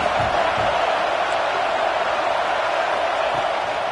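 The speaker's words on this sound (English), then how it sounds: "this crowd is at fever pitch" Stadium crowd noise in a college football video game, a steady loud wash of cheering and roar at fever pitch before a red-zone third-down play, continuous throughout.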